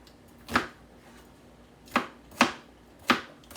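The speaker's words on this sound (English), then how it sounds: "I'm just cutting up a little piece of onion" A knife chops a small piece of onion on a cutting board for marinara sauce, four crisp, distinct thuds spaced unevenly in an otherwise quiet kitchen.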